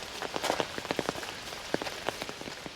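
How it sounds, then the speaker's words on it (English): Heavy rain pattering steadily on a misty hiking path near Hallstatt, dense close droplet impacts with scattered louder taps, no voices. "You can see it's raining pretty heavy now."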